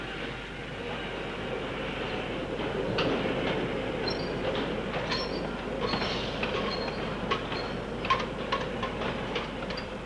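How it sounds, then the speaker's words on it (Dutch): An underground coal mine train rumbles steadily along with rattling wheels and metallic clatter, occasional squeals and clanks over a continuous low drone; no voices. "Op zijn aanwijzingen gaan er lege treinen naar het kolenfront en volle naar de lift."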